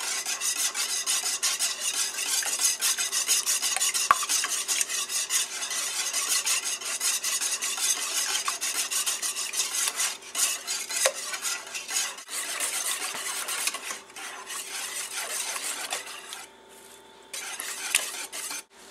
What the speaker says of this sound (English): With our eggs, we need to add in 1/2 cup of milk and then